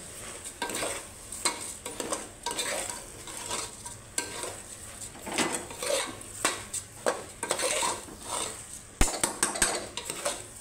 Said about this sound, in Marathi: खिचडी जे तांदूळ आहेत ते एकदम छान परतून घ्यायचे।